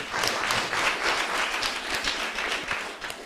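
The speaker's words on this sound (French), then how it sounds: "Applaudissez." Classroom students clap together in a lively, fairly close burst of applause with slightly uneven pulses, no talk over it.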